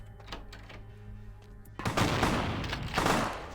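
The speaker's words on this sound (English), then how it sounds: "Oh, they do have shotguns." Shotgun blasts in the game Vampire: The Masquerade Bloodlines, a sudden loud burst of rapid overlapping gunfire and booms that cuts in after a quieter stretch and keeps going to the end.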